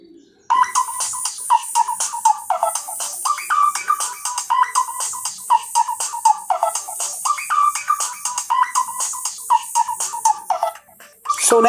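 Samsung Galaxy S ringtone, a bright bell-like melody of quick chiming notes in a steady repeating rhythm, playing loud and clear throughout with no talk.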